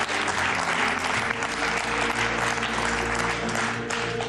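A studio audience on the game show Deal or No Deal claps loudly and continuously, a dense wash of applause with no speech.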